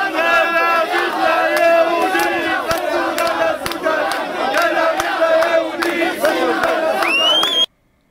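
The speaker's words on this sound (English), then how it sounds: "I filmed him leading an angry crowd in chants of" An angry crowd at a protest march in a South Tel Aviv park chants loudly and in unison, its massed voices close and continuous before they cut off abruptly.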